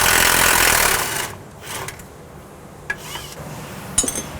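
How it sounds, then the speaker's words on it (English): Power tool rattle while removing the lower shock bolts on a 1967-72 Chevrolet C10 truck: a loud buzzing impact burst at the start, then quieter metallic clinks and short taps. "I'll go ahead and get the bottom 2 bolts out of the shock now"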